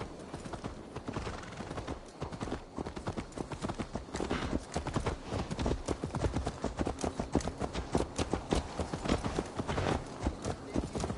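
Horse hooves clip-clop steadily at a walking pace in Assassin's Creed Valhalla, a dense rhythmic clatter of close footfalls continuing throughout with no talk over it.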